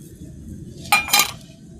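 Mango pickle being mixed with oil in a pot gives two brief, close clinks of a spoon against the vessel, standing out over a low steady background rumble.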